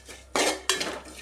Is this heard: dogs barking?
no